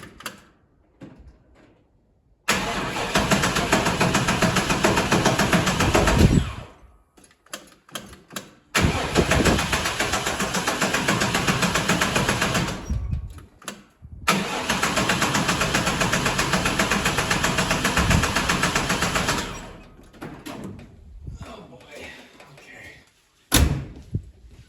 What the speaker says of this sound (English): let's crank this thing up, see if it does anything.